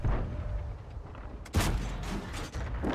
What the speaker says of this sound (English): Blind shot there, not sure if we hit anything.